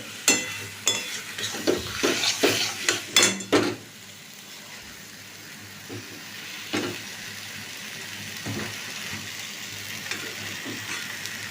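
Jackfruit curry being stir-fried in a pan: a run of loud clattering scrapes and stirs in the first few seconds, then a quieter steady sizzle with occasional single stir strokes, no talk.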